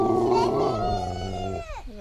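Pet dogs at a family home raise long, wavering wolf-like howls, several voices sliding and overlapping close by before tapering off into a falling wail.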